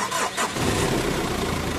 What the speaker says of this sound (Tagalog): tsaka ako pa-start itong makina